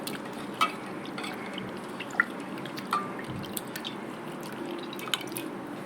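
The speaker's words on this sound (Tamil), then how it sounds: "இப்போ புளியை கரைச்சி எடுத்துக்கலாம்" Soft wet squishing and dripping of hands dissolving tamarind in water, close and quiet, with occasional small splashes and drips.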